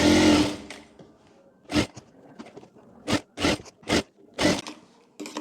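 A sewing machine runs in several short, loud bursts of rapid stitching on a co-ord set top, separated by pauses filled with faint fabric handling.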